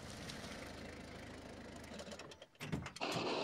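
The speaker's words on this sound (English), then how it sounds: "And here's Peter Fogg on his motorbike." A cartoon motorbike engine drones steadily nearby, then briefly dips and surges back louder as it moves past.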